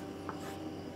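A pen or pencil writes the name of a praying mantis on paper, giving faint, soft scratching over a low steady background hum for about a second.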